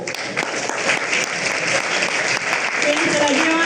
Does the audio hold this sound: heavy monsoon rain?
no